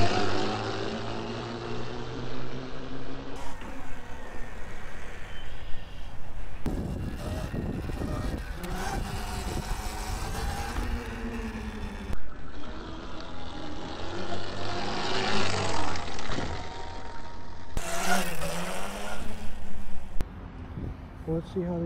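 A Surron electric dirt bike rides and pulls wheelies, its motor whine and rushing wind rising and falling across several cut-together passes, fairly loud and close throughout.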